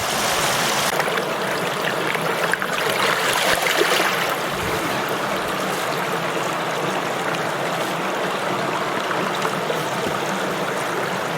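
Fast-running stream at a Dartmoor river crossing on a moorland walk, a steady, loud, broadband rush and trickle of water that continues unbroken throughout, with no voices.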